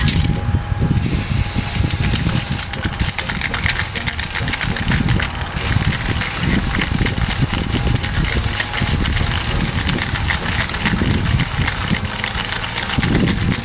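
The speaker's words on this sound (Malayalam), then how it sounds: "ജസ്റ്റ് ഒന്ന് പെയിൻറ്റ് അടിച്ചിട്ട്, ബ്ലാക്ക് കളർ പെയിൻറ്റ് അടിച്ചിട്ട് ഒന്ന് ഫിനിഷ് ചെയ്യാൻ പോവാണ്" Black spray paint hissing from a can onto a homemade rocket launcher, a loud, steady close-up spray with brief pauses and a low engine-like hum underneath throughout.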